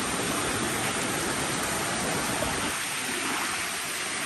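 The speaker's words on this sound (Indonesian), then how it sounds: "Ini sungainya." Steady broadband rush of a river stream flowing at a family campsite in Pangalengan, continuous and fairly close, softening slightly toward the end with no talk.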